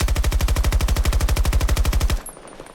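Rapid automatic gunfire in Battlefield, a continuous burst of about two dozen evenly spaced, loud, close shots lasting roughly two seconds before cutting off into quiet.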